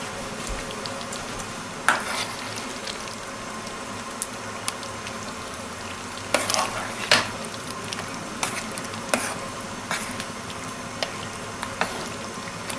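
A ladle stirs thick spaghetti sauce in a pot, giving a soft, steady simmering texture broken by occasional scraping clinks against the pot sides.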